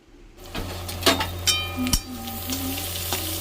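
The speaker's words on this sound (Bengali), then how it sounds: "বেগুন ভাজাটা আমার তো কড়াতে দিয়ে দিয়েছি" Eggplant slices frying in oil in a kadai, a steady close sizzle with a low hum beneath and a few sharp clinks of utensils against the pan.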